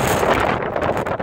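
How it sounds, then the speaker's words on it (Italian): Strong wind buffets the microphone on the foggy summit of Reixa mountain, a steady, loud, broadband roar with gusting fluctuations throughout and no voices. "c'è un gran vento e purtroppo una gran nebbia che non si vede assolutamente"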